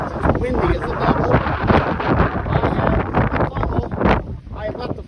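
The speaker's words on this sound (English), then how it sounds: "it's windy as the devil" Strong wind gusts buffet the microphone outdoors, a continuous loud rumbling roar with surging bursts throughout.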